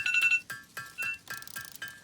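A mobile phone rings in a repeating electronic pattern of short tonal bursts with brief gaps between them, heard clearly at moderate volume with no talking over it.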